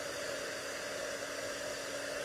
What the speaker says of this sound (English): I'm just going to heat up the heat gun, and then kind of heat it up